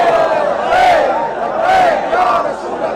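Rally crowd of devotees chants religious slogans in loud, rising-and-falling waves, one surge about every second, dense and reverberant, without a break.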